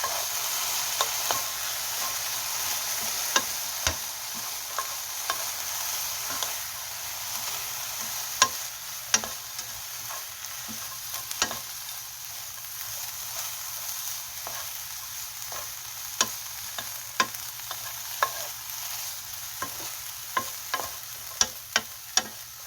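Dried filefish fillet frying over low heat in a pan gives a faint, steady hiss broken by frequent sharp clicks and taps of a utensil against the pan, close and quiet throughout.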